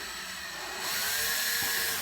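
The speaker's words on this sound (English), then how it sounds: "I'm gonna grab my drill again and I'm gonna hook back into the bottom of it" A power drill spins a yoyo string counterclockwise, a steady whirring hum that rises and grows louder partway through, then holds, close up with no talk.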